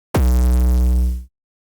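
A single blown-speaker style hyperpop 808 bass note built in Serum hits with a sharp pitch drop, then holds as a heavy, saturated, buzzy low tone for about a second before cutting off abruptly.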